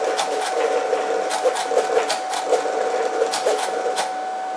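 A Cricut Venture cutting machine works quickly through a cut, giving a close mechanical whir with a steady tone and rapid irregular ticks and clicks.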